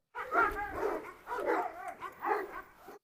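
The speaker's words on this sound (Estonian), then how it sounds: "Teised koerad, kes Hektorit nägid, läksid hulluks, vend." Several dogs in a forest bark and yip excitedly at a Cane Corso, with loud, overlapping barks arriving in three close bursts across the clip.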